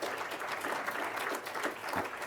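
A room full of nonprofit workshop attendees applauds together, a dense, steady wash of clapping that holds at an even level from start to finish.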